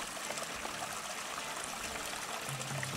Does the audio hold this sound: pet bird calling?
no